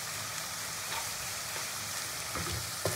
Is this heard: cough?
no